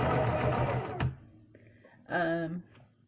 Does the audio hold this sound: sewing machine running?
yes